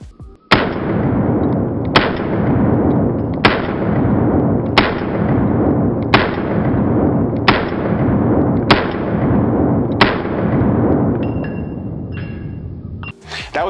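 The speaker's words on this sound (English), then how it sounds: "That was me shooting 124 grain 9mm at 100 frames per second." Nine sharp, loud gunshots from a ported Smith & Wesson M&P9 2.0 Performance Center pistol firing 124 grain 9mm, evenly spaced about a second and a half apart, each with a ringing decay.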